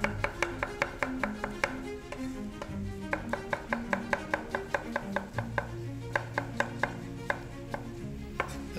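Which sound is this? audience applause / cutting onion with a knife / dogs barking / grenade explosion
cutting onion with a knife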